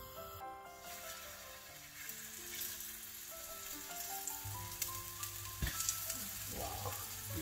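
Plaice frying in a hot pan with lemon olive oil, a steady close sizzle running throughout with faint background hum and a few small clinks, no talking.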